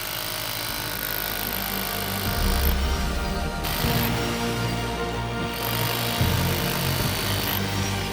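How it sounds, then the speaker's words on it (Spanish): An electric demolition hammer works against a homemade solar panel built from silicon CDs out in the field, a loud, continuous mechanical rattle and drone that shifts pitch slightly in a few stretches and never pauses. "El panel puede hasta con el martillo demoledor"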